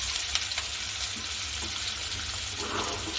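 Bottle gourd and fenugreek dhokla pieces are stirred into a hot tempering of sesame seeds, curry leaves and green chilli, giving a steady, dense sizzle and frying hiss with light scraping of the stirring, and no voices.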